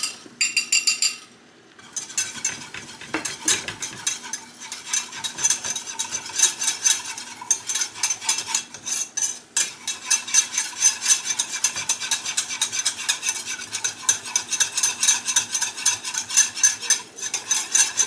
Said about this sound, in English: My butter's now melted, and I am going to whisk in my flour.